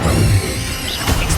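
Confringo blasting spell striking in Hogwarts Legacy during a fight with a giant spider: a loud, crashing magical impact with a whooshing burst, flaring again near the end, with no voices.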